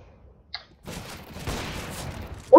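Gunfire in the Counter-Strike Global Offensive video game: a single faint shot, then a short rattling burst of game gunfire and a sharp loud shot at the end.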